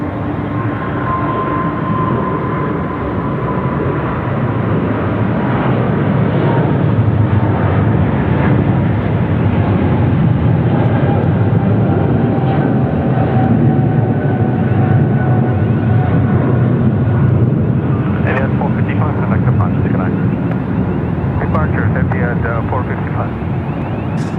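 A Boeing 777 jet airliner roars loudly and steadily at Sydney Airport at night, a broad continuous engine rumble with a faint whine running throughout, under occasional nearby chatter.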